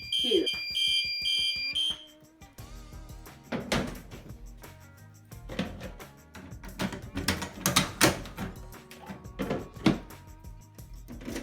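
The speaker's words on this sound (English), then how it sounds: "I'm going to test the home smoke alarms." A home smoke alarm is tested and beeps in a quick run of sharp, loud pulses at the start. Clattering, knocking and door sounds follow while someone talks.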